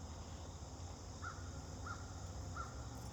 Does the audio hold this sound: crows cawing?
yes